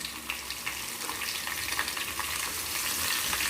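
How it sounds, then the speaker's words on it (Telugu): Crushed garlic fries in a pan of hot oil with a steady, crackling sizzle and occasional stirring pops, close and continuous throughout. "ఇవి బాగా వేపుకోవాలి"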